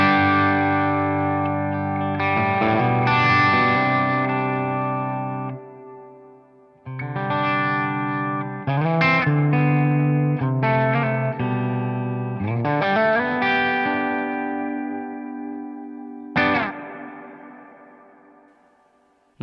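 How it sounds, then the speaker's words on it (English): Electric guitar through a Strymon Flint pedal on its 70s reverb setting plays sustained chords and bends, each phrase trailing into long, lush reverb tails between strums, loud and alone. "We're gonna go to the 70s."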